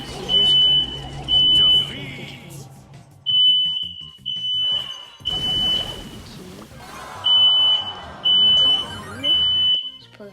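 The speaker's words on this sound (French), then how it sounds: "je sais pas si vous pouvez entendre le système d'alarme" A building alarm system sounds in repeated loud electronic beep bursts with short gaps between them. A person talks over and between the beeps, and there is other indoor noise.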